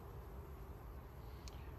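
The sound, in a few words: buzzing honeybee hive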